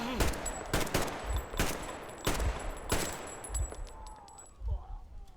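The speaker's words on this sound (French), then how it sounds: "Ah, j'ai plus de balles en plus. Forcément, à force de tirer partout comme un crétin." Gunfire in the video game Metro Exodus: a series of loud, spaced single shots about every half second to a second, with a faint voice and game sounds in the tail.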